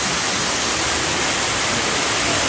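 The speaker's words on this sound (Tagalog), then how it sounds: "Meron siyang sariling falls." A waterfall roars inside a long cave in Japan, a dense, steady rush of falling water that stays loud and unbroken throughout, with no other sounds or talking.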